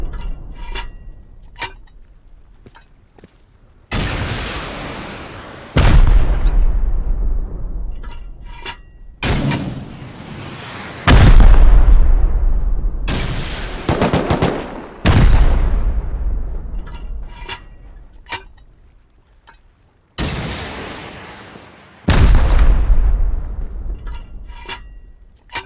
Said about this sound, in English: I gotta really listen for him to stop shooting rockets